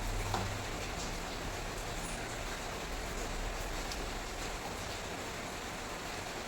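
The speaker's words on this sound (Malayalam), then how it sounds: "നല്ല മഴയല്ലേ" Heavy rain falls steadily in a broadband wash of hiss and patter, loud and continuous throughout, with no other sounds standing out.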